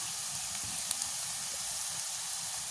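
Potatoes and green onions fry with salt in hot oil, giving a steady, close sizzling hiss with faint crackles throughout.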